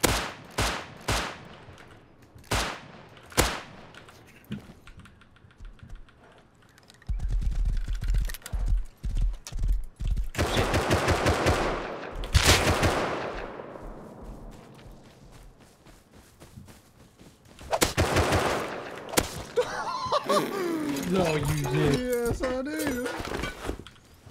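Rust survival game gunfire: a string of sharp, loud shots, several widely spaced cracks followed by denser bursts, with a dense crackling stretch and spoken voices near the end.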